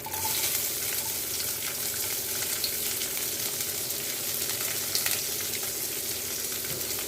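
Onions fry in hot oil with a dense, continuous sizzle and crackle, loud and close, with faint stirring sounds.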